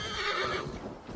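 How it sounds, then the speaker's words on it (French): Horse whinnying in the video game Assassin's Creed Valhalla, one loud, close neigh lasting about a second, with a faint clip-clop of hooves beneath and no voices. "Oh, un cheval."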